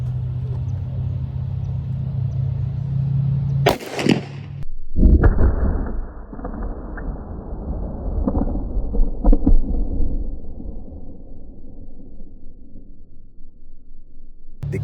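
A heavy 700-grain round fired one-handed at a shooting range: a single sharp, loud blast, followed by a long rolling echo that slowly fades.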